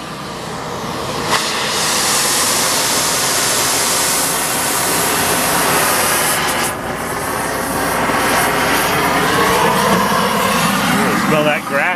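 A Columbia Torch II snowblower engine runs at full throttle, a loud, close, unbroken roar that holds steady throughout with only slight shifts in pitch.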